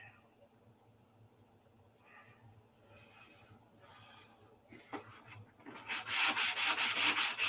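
Sanding on a model airplane, an F2B P-47, gives soft repeated rubbing strokes. They start faint and grow louder and more vigorous toward the end, with some low background noise.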